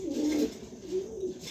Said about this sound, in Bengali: নটটা ডাকাডাকি করতেছে দেখেন।